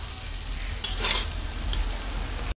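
Fried rice ingredients sizzle and fry in a home kitchen wok, with a brief burst of stirring scrapes near the middle over steady close frying hiss, no voices.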